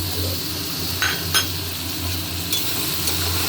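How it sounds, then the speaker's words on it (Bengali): Potatoes and onions stir-fried with ginger paste, hot chilli and Kashmiri chilli in a pan, a steady close sizzle under a low hum, with a few sharp clinks and scrapes of the spatula against the pan. "এবার এটা খুব ভালো করে কষাবো।"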